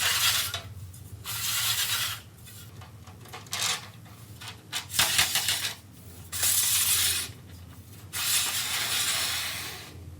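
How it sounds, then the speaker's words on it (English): Aluminum anchor plates for a PGT sliding glass door slide onto the bottom of the mainframe track, making repeated close, raspy metallic scraping strokes with short pauses between them. "they're going to be slid on to the bottom of your mainframe track"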